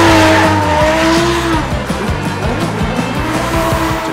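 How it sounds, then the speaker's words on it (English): A competition drift car rips around a parking lot, its engine note sliding down before a burst of tire squeal and skidding, with choppy revs and scrubbing tires continuing loud and close. "we ended up doing a bunch of rides in my competition car in the parking lot"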